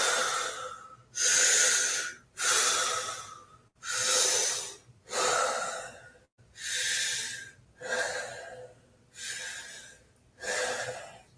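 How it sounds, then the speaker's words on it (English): Deep, forceful Wim Hof method breathing for jiu jitsu recovery: about eight steady, rhythmic inhale-exhale cycles, each a loud, close, airy rush of breath with brief pauses between, and no talking. "deeply in, let it go. Breathing to charge your body."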